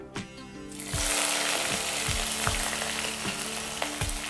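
Crushed ginger hits hot oil after mustard seeds have popped, for Kerala-style chicken thoran, bursting into a loud, steady sizzle with several sharp stirring scrapes of a spoon against the pan.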